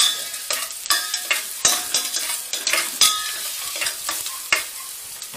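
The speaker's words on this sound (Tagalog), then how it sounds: "Inuuno ko yung sibuyas mga brusis dahil matagal kasing maluto yung bawang." Onions stirred in a hot pan for a budget Filipino-style spaghetti sauce, with a steady close sizzle and repeated sharp scraping clacks of a utensil against the pan, no voices.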